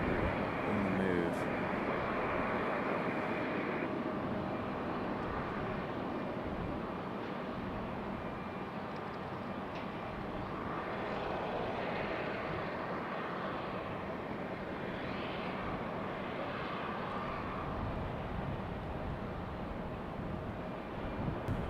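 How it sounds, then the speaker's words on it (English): JetBlue Airbus A220 airliner taxiing at Raleigh-Durham airport, a steady low jet-engine rumble some distance off with wind noise over the microphone. "We got JetBlue and that A220"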